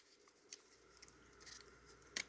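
Scissors snipping through folded paper while cutting out letter shapes, giving faint, close crisp cuts over a low steady background hum, with a sharper snip at the end.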